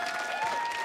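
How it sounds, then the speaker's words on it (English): Audience applause at a live stage show, a brief steady wash of clapping from a crowd, continuous and moderately loud with no talk over it. "start clapping right now"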